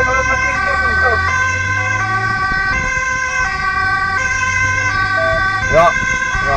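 An ambulance siren wails loudly and close by on a road from The Hague to Rotterdam, its tone cycling steadily over a low rumble of traffic.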